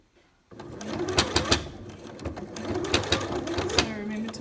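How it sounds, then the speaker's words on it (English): A sewing machine stitches along the edge of a thick fabric mask, running steadily for about four seconds with sharp mechanical clicks and thumps through the close, busy whir. "So I'm just going to sew right on the edge, all the way around, holding."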